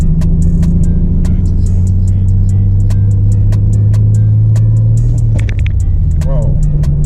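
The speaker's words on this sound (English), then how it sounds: "Big backfire." A Nissan 300ZX engine runs steadily on the road, then gives a single sharp backfire pop about five seconds in before settling back to its drone, with people talking over it.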